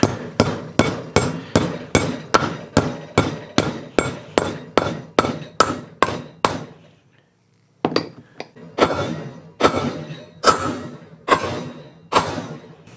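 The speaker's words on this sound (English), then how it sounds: "And we'll just pound her in." Steady, evenly spaced metal hammer blows ring out close by as a sleeve anchor is driven into a drilled hole, about a dozen in a row, then a short pause before several more scattered strikes.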